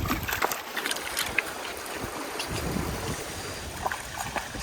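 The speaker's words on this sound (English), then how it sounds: "Chasing your own splashes." A dog splashes about in cold water on an early outdoor walk, a rough continuous wash of churning water with scattered sharper splashes, blended with wind buffeting the microphone and no voices.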